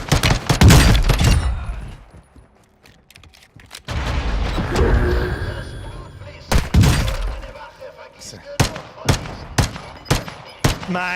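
Gunfire in Warzone 2.0, a loud opening burst of automatic fire, then a quieter stretch of rumbling action, followed by sharp, repeated single shots and short bursts toward the end, with people talking over parts of it.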